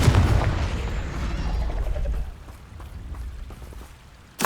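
A Confringo fire spell from Hogwarts Legacy bursts in a heavy, rumbling boom that rolls on and fades over a couple of seconds, followed by quieter crackling and a final sharp thump.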